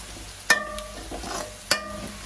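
Food sautés quietly in a pan, with two sharp scrapes of a spoon stirring it over a soft, steady sizzle.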